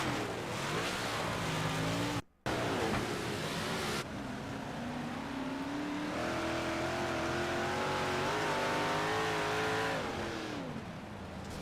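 Big block modified race cars at a dirt oval come in too hot and brake hard for a turn, a loud rising and falling engine roar with gear changes and revving that runs close and continuous.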